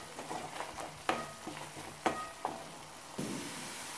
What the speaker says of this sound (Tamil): நல்லா இதை கிரேவி நல்லா இப்படி நல்லா கிண்டி விட்டுடலாம்.